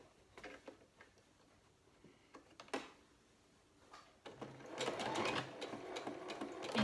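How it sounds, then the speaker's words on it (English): After a few scattered clicks and fabric handling, a sewing machine runs a seam on a tote bag, its rapid rattling stitch starting partway in and continuing steadily, close and moderately loud. "So you're going to sew along here, along the bottom, and then back up this side. And so I'm going to sew that right now for you."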